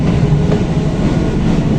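An Indian Railways electric train running at speed, heard from on board as a loud, steady roar of wheels and rushing air with no break, close and continuous.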